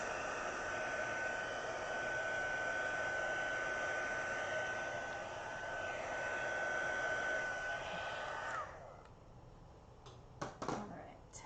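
Heat gun blowing continuously while heat embossing a stamped image, a loud steady airy roar that stops near the end, followed by a few faint handling clicks.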